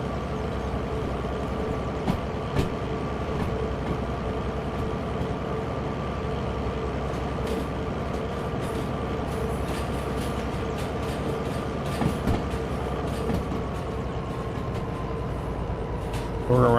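A train in the Derail Valley rail game rolls along the track with a steady low rumble and a constant wheel drone. Sharp clicks and knocks from the rails come at irregular moments throughout.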